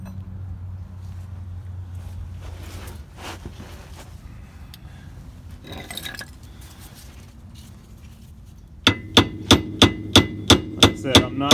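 A hammer strikes the drag link of a 1985 Mercedes 300D in a run of about seven sharp, evenly spaced, close metallic taps near the end, after a stretch of quieter shuffling and handling noise.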